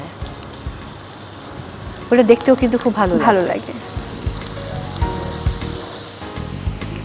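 Kebabs fry in sunflower oil on a grill pan, giving a steady close-up sizzle that continues under a woman's conversational speech.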